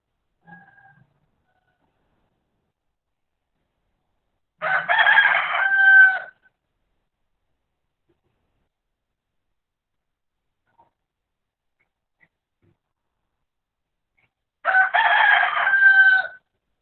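A rooster crows twice, each call a loud drawn-out cock-a-doodle-doo about ten seconds apart, separated by near silence, with a faint cluck at the start.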